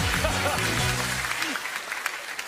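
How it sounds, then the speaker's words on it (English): Studio audience on a comedy entertainment show breaks into applause, a dense wash of clapping running throughout, mixed with voices and cheering at the start. "ladies and gentlemen, big round of applause."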